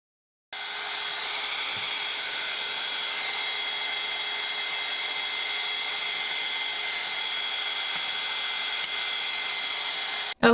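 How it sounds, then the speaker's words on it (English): A heat gun blows steadily for about ten seconds, drying freshly painted Easter craft pieces, its loud even whoosh carrying a constant whine with no voices over it. "now it's going to be a little bit of heat gun"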